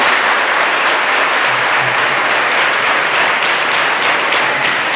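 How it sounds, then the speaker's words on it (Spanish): Loud, sustained applause fills a church congregation, a thick continuous roar of clapping hands that stays strong and steady throughout. "Regalemos un fuerte aplauso a nuestro Dios."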